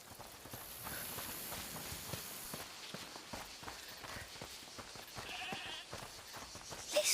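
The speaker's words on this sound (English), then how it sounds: "Listen, is that the goat he talked about?" A goat bleats faintly a few times in the video game A Plague Tale: Requiem, mixed with steady soft footsteps and ambient game sounds.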